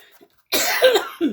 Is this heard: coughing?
yes